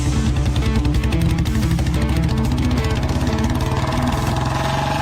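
Several motorbike engines run steadily as the bikes pull up and idle, a loud continuous mid-pitched drone with slight revving throughout, with no voices over it.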